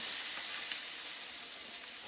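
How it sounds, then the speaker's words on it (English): Potatoes fry in a pan for crusty bits, a close, steady bright sizzle that runs alone without pause. "This is what I like to see when I'm frying potatoes."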